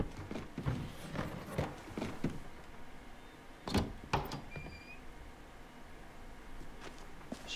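A door creaks and bangs open in The Walking Dead game, with a few sharp knocks and thuds near the middle over a low, steady ambient bed.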